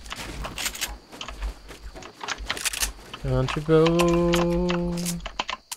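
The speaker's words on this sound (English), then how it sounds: "This keyboard really is loud" Loud computer keyboard clicking in quick bursts of sharp keystrokes under a player's voice during a Fortnite game. A tonal in-game sound rises partway through.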